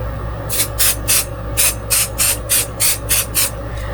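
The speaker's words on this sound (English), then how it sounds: "So to hold it in place, I'm going to use this right here. Quilt basting spray." Eleven short bursts of spray hiss from an aerosol can of quilt basting spray come in a quick, fairly even rhythm over a low background hum.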